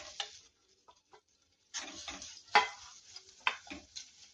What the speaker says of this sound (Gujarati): ઘી લઈશું